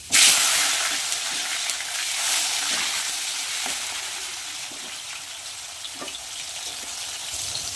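Bay leaf and chopped tomato hit hot oil in a wok with a loud sizzling burst, then settle into a steady, close hiss of frying with occasional faint stirring clicks.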